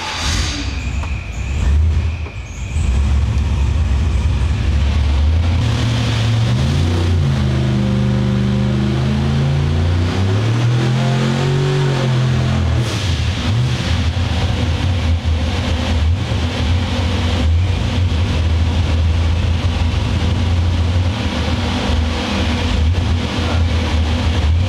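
A car engine fitted with a blow-through carburetor revs loud and close, rising and falling in pitch as it climbs toward peak power and holding a sustained roar, with no voices.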